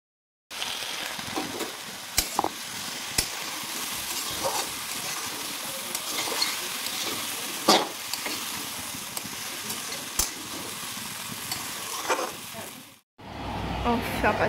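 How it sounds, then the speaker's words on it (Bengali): Unripe jackfruit frying in a pan gives a steady soft sizzle and hiss at low level, with occasional stirring clicks, before a brief pause near the end. "এই যে আমি এঁচোড়টাও ভাজা বসিয়ে দিয়েছি।"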